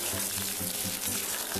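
Potato pieces fry in a pan for a vegetarian drumstick dish, pressed down and stirred now and then, giving a steady close sizzle with a faint low hum underneath.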